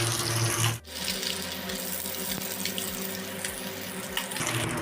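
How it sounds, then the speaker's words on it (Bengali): Water runs steadily from a kitchen tap to soak green chillies for a Bengali mustard rohu fish curry, a loud continuous splashing stream with a short break near the start. "এটা জল দিয়ে দু থেকে তিন মিনিট মতো ভিজতে দেবো"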